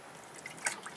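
Small splashes and drips as a young child's hands dip into a container of water, faint and close, with one brief sharper splash near the end.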